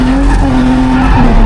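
Tires skid and squeal loudly as a drifting car spins out on a corner, a sustained shrill screech over a heavy engine roar, close and continuous.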